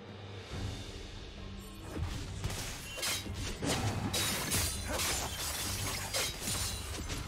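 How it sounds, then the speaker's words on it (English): A League of Legends turret collapses in a dense crashing, shattering burst that builds and sustains for several seconds amid loud in-game effects and a steady low hum. "Red team's turret has been destroyed."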